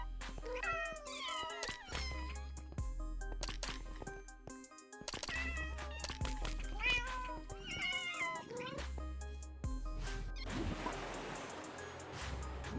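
Cats in the Minecraft video game, changed by the Cute Cats mod, meow again and again in short, clear calls. Music plays underneath and there is no talk.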